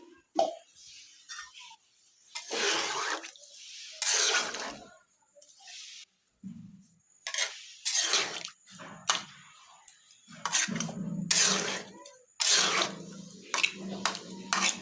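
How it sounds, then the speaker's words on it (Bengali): Water is poured into a pot holding half a kilo of fish, heard as irregular bursts of splashing and sloshing that come in separate pours with short quiet gaps between them. "জলটা দেই, এটা হাফ কেজি মাছ, পুরোটাই দিয়ে দেবো।"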